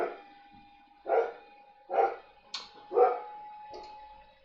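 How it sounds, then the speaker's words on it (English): A dog barks in a garden, four or five sharp, fairly close barks spaced about a second apart, with a brief high whimper between them and no talking. "And my dog is in the garden."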